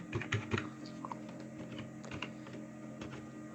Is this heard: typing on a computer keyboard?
yes